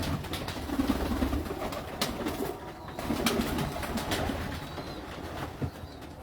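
Paired breeding pigeons on a Lahore rooftop coo in soft, low repeated phrases, with occasional sharp clicks and rustles nearby under steady background noise.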